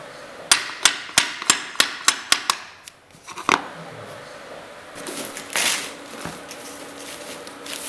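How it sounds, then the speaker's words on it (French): A hammer knocks a pull bar against the last snap laminate flooring plank in a row, eight sharp evenly spaced taps, then a pause, a couple of thuds and scraping, shuffling handling noise. "Ce dernier morceau de la rangée est fixé avec un marteau et un tire-lame."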